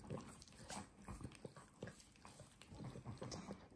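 A dog whimpers and makes soft, close, broken sounds in short bursts while being cuddled indoors. The sounds are faint and there is no talking.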